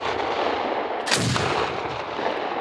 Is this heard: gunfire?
yes